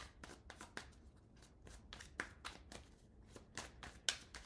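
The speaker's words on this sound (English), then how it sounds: "I shuffled a little bit" Tarot cards shuffled by hand during a reading, a steady run of soft riffling and slapping bursts with a few sharper snaps, close and alone without talk.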